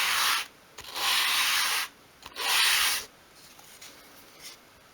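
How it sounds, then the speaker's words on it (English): A small piece of wood for dolls house furniture is drawn across sandpaper, held upright, in three long, close rasping strokes separated by short pauses, with no talk. "So again, I would just go across my sandpaper, keeping the piece of wood upright."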